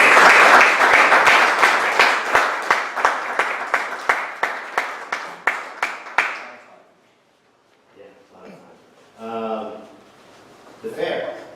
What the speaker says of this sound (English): I do want to take a minute and just give some applause to the two committeemen up here